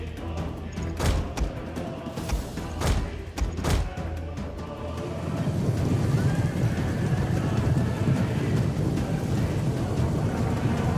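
Heavy cavalry horses galloping across a battlefield in the Total War: Rome II video game, a dense rolling rumble of many hooves with occasional whinnies and thuds, growing louder and steadier in the second half.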